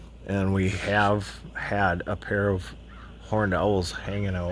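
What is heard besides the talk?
crows cawing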